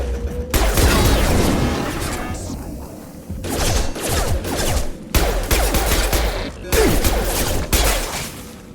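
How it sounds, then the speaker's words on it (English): Sustained gunfire rattles through a Mass Effect 2 firefight on Freedom's Progress, loud dense volleys broken by short lulls, with crashes and impacts mixed in and a voice heard briefly. "Taking fire."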